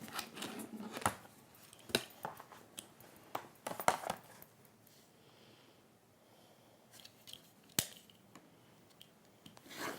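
Sharp scissors trimming fabric during textile sewing work, heard as a scattered series of quiet close-up snips and clicks with pauses between cuts.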